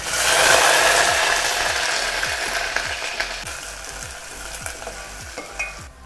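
Onions and mustard seeds frying in hot oil for a Karnataka-style tempering, a loud steady sizzle that starts strong and slowly eases, with regular scraping clicks of a spoon stirring the pan and no talking.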